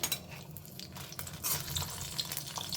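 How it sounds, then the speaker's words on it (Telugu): Dried red chillies fry in hot oil in a pan for a ginger chutney, giving a steady close sizzle with a few stirring scrapes and no talk. "దాంట్లోకి కొంచెం ఆయిల్ వేస్తున్నాం ఎండుమిర్చి"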